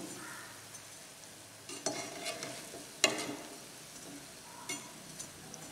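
Madhuban dosa frying in oil on a griddle, quiet steady sizzle broken by several scraping and tapping sounds as it is pressed and flipped over.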